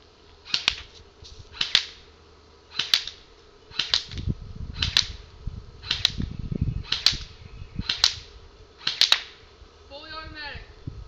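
An Enhanced JG M16 DMR airsoft gun fires BBs at a target in about ten sharp, evenly spaced cracks, each with a snappy mechanical report, while low rumbling handling noise rises in the middle.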